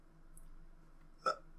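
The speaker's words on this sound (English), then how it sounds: "I was just burping." A single short burp, quick and faint, standing alone against a quiet background.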